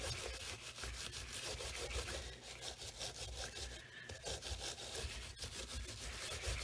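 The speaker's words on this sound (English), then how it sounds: "so we'll continue to clean this up with our Scotch-Brite" A Scotch-Brite pad scrubs a leaded glass solar lantern in quick, steady back-and-forth strokes, a faint, even rasping rub with no talk.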